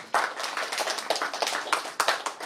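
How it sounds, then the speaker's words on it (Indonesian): Applause for a presenter at an evening arts and culture discussion at Situ Rawa Arum, sounding like a modest group clapping with uneven claps close by, steady for a couple of seconds. "beri tepuk tangan untuk Kang Husen"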